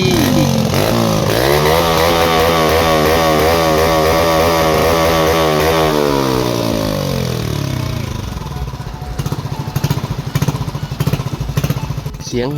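A loud turbocharged engine revs hard with a rising, sustained roar, then drops back to a rough, sputtering idle.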